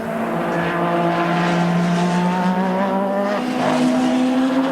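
A 1986 Formula One car driven by Nelson Piquet screams through a quick qualifying lap at the Australian Grand Prix, a loud sustained high-revving engine whine with steady pitch that shifts briefly as it changes gear.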